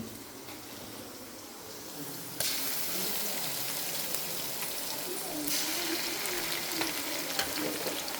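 Turmeric and ginger-garlic paste fry in hot oil in a pan, a continuous sizzling hiss that jumps louder as more paste goes in, with faint stirring scrapes.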